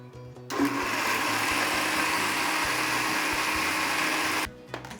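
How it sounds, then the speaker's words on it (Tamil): A kitchen mixer grinder whirs loudly for about four seconds, grinding coconut chutney to a coarse texture, starting and stopping abruptly with a steady motor drone between. "ரொம்ப நம்ம நைஸாக அரைக்கக்கூடாது. கொஞ்சம் குறைப்பாக அரைச்சிக்கலாம்."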